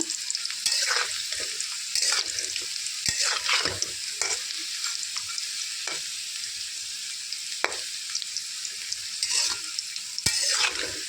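Potatoes cut for french fries sizzle steadily in hot oil, a continuous bright frying hiss with occasional stirring scrapes and small pops throughout, close and fairly loud with no talking.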